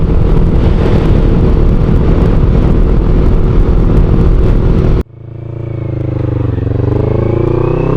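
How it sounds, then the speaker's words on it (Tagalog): Motorcycles and a few other vehicles pass on a road near a bridge, giving a loud, close, steady engine roar that cuts off suddenly and gives way to a quieter, rising engine drone. "Ayan, oh, mangilan-ngilan lang, karamihan pa motor."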